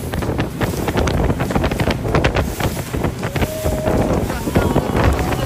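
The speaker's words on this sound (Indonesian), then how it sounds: "Anginnya kencang." Strong wind buffets the microphone in loud, continuous gusts on Lake Toba, with a boat's motor rumbling underneath.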